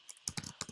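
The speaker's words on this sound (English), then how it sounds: "I'm going to type in my text" Keystrokes on a computer keyboard while entering text for an Adobe Spark project, a short run of several quick, close clicks in an uneven rhythm with no voices.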